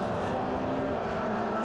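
MG Trophy race car engine at Brands Hatch, a steady loud drone with a sustained tonal whine, continuous throughout with no pauses or voices.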